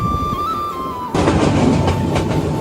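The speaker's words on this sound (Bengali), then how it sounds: "অনেক বড় ট্রেন আমরা মিডিল পয়েন্ট বগিতে উঠছি আর কি" A long passenger train heard from inside a middle carriage: a faint tonal whine first, then a sudden rise into loud, close rumbling and rhythmic wheel clatter that continues steadily.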